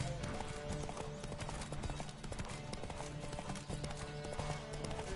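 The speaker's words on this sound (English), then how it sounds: "Bloody horse racing, I can't stand any type of racing in a game." Steady clip-clop of a horse galloping in a video game race from The Witcher 3, driving hooves continuous and close over a busy game soundscape.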